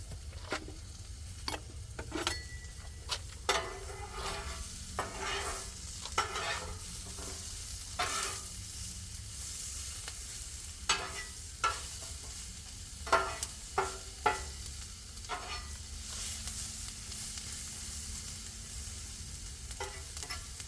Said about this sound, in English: Now we're going to add in our green onions and sweet peppers.